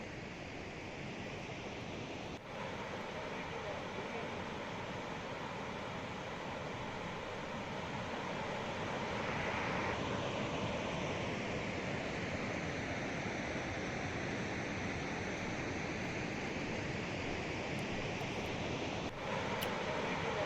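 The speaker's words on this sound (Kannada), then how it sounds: "ಸುಮಾರು ಹತ್ತು ಸಾವಿರಕ್ಕೂ ಹೆಚ್ಚು ಕ್ಯೂಸೆಕ್ನಷ್ಟು ನೀರನ್ನು ಈಗ ಹೊರಗಡೆ ಬಿಡ್ತಾ ಇದ್ದಾರೆ" Water released from the full Kadra dam rushes down the Kali river in Uttara Kannada, about 10,600 cusecs, a steady loud broadband roar like heavy surf that holds without a break throughout, with no voices.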